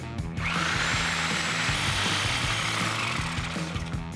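A power tool saws steadily through the front lower control arm bushing of a Toyota Tacoma, a continuous loud grinding cut with mechanical rattling that runs for the full clip, without any talk.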